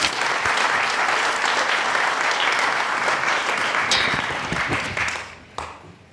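Sustained applause from a lecture audience welcoming a speaker, a dense steady wash of many hands clapping that holds for several seconds before tapering off with a few final claps.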